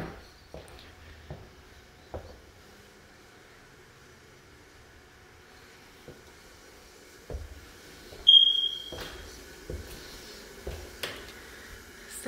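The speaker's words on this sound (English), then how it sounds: "Second bedroom ceiling fan smoke detector needs the battery replaced." A ceiling smoke detector in a bedroom gives a single short, high electronic chirp for a low battery. It stands out clearly against a quiet room with scattered faint knocks and clicks before and after.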